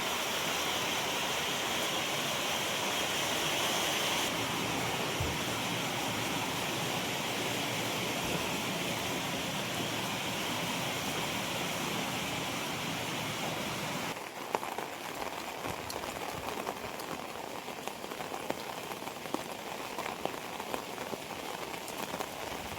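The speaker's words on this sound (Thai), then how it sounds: "ฝนตกหนักมากเลย" Heavy rain pours steadily onto surfaces, a dense continuous hiss with scattered drips, slightly thinning near the end; no one speaks.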